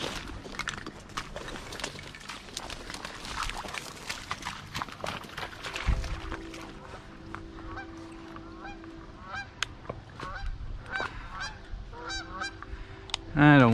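Geese honk repeatedly during an Iowa duck hunt, a series of nasal calls at moderate distance over faint rustling and background noise, growing louder near the end.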